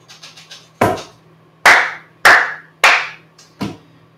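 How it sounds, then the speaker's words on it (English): Sharp hand claps ring out alone, a few soft taps followed by five loud, separate claps spaced unevenly across a few seconds, close to the microphone. "Give yourself a round of applause for that."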